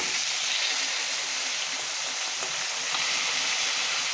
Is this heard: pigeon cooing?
no